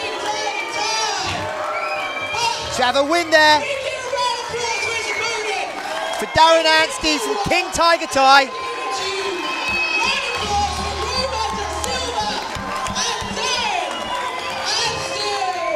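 A crowd at a Muay Thai fight-night bout cheers and shouts loudly after the fight is stopped on a cut eye, with whoops rising in bursts under a commentator talking throughout.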